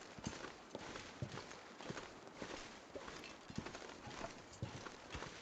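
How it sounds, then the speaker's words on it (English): Astrid's footsteps in The Long Dark, a steady run of soft thudding steps with an odd, clopping character, close and alone over a faint ambient bed. "Astrid's footsteps sound so funny in these headphones"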